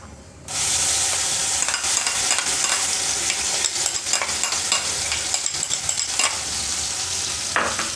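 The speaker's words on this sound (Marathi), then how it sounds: "हा मसाला 2 ते 3 मिनटं तुम्ही चांगला भाजून घ्या." A wet ground masala paste hits hot oil and fries with a sudden loud sizzle that stays dense and crackling, broken by frequent scraping stirs of a spoon in the pan, close up and without any voices.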